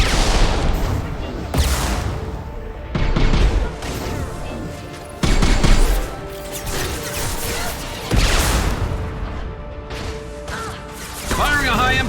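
Gunfire and explosive impacts in the sci-fi shooter game Mass Effect 2 Legendary Edition, loud repeated bursts and booming blasts over several seconds, with heavy combat noise and brief voices throughout.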